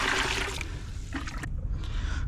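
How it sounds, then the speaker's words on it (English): Water rinsing through a nugget bucket used for urban gold prospecting, a loud rushing pour that thins to a trickle and splashing, close and steady without any voices. "We'll put a little bit more water through there just to rinse it off."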